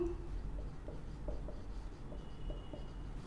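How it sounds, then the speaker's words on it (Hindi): Marker or chalk writing out a maths problem on a board, with short scratchy strokes in an irregular rhythm against a steady low room hum, close and moderately quiet. "तो चलिए लिखते हैं"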